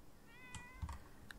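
A cat meows softly in The Sims 4, one faint drawn-out mew over a low background hum with a few light taps and clicks nearby.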